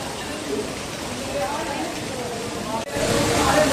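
Steady rain hisses across a temple garden with a small pond in Thane, a constant broadband wash with a voice talking over it throughout.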